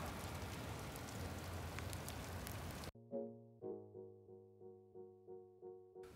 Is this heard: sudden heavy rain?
yes